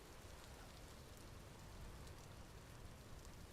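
Steady rainfall in the survival game Vintage Story, a quiet, uniform hiss of drops with no breaks, lightly textured and alone without voices.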